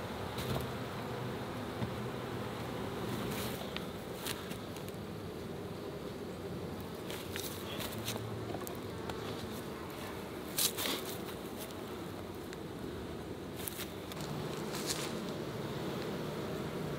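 Honey bees swarm around opened beehives with a steady, soft, low buzzing drone that fills the whole stretch. A few faint higher flickers rise above it, and nobody speaks.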